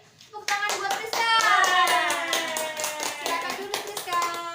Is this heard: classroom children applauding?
yes